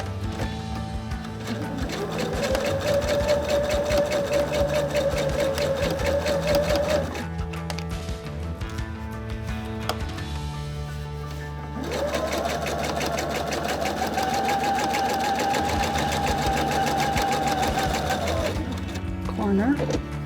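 A sewing machine runs in two long steady stitching bursts with a brief pause between them, a close, even mechanical whir with rapid needle rhythm while a class works a corner with pivots and diagonal stitches.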